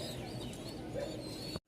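Baghdadi racer pigeons, a breed kept for flying and racing, cooing in a pen in a shop. Their low, steady murmur runs continuously with faint bird chirps above it, then cuts off abruptly near the end.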